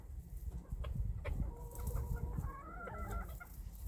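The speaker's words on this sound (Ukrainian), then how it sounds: "Перший півник." A bantam rooster clucks nearby in a string of short throaty calls, with rustling and scratching noises around it.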